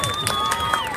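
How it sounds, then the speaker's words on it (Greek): A crowd at a Greek Independence Day parade in Boston cheers and applauds in a brief, dense wash of noise, with a steady high tone running through it. "Χειροκροτήστε τους"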